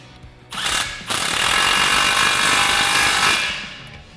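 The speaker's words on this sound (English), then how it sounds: "tighten that down with a 15mm socket" Ratchet wrench with a 15mm socket tightens an exhaust clamp on a 2021-2022 Ford F-150 Roush single exhaust, a loud, close buzzing ratchet run lasting a few seconds after a brief first burst.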